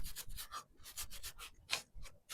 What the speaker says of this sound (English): So we're just going to get them wiped off, get that sanding dust off of them.